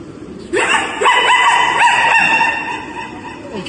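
A human voice imitates a dog barking: a rising yelp followed by several quick bow-wow barks, close and loud, alone.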